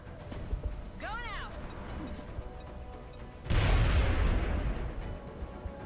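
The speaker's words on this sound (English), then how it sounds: "Toss a grenade." A grenade detonates in the turn-based game XCOM: Enemy Within, a sudden loud boom with a broad rumbling tail arriving after a few seconds of ticking interface sounds and a quick whooshing cue, while someone talks over it.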